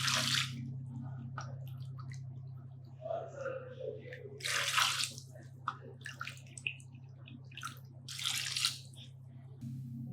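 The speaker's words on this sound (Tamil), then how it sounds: "இப்போ நம்ம இதில் 3 கப் அளவுக்கு தண்ணி சேர்த்துடலாம்." Water, about three cups, is poured into a pot holding cut onions and tomatoes for sambar, giving intermittent splashing bursts over a steady low electrical hum, quiet and close, with no speech.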